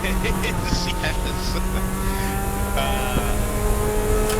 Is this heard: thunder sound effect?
no